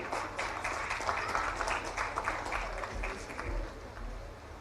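Audience applause with scattered clapping at a government ceremony where a district wushu athlete receives an appointment letter, steady and moderately distant, continuing for several seconds without talk.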